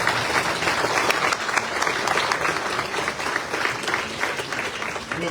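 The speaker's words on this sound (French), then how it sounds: "je vous invite à applaudir parce que c'est très plaisir qu'elle soit là" Sustained, loud clapping fills a hall as an audience applauds at a French political public meeting, with dense, continuous applause and faint crowd murmur throughout.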